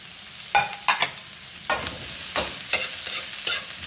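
Garlic and ginger sizzle and fry in a pan on its own, with a steady crackle broken by several louder bursts of stirring spaced through the moment.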